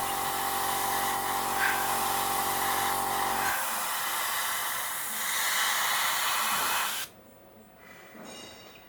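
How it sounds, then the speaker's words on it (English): An airbrush lays a thin coat of paint on a scale model, giving a steady close hiss that runs unbroken for most of the clip and then cuts out near the end, leaving a quieter background. "I'm not pulling the airbrush trigger all the way to the back"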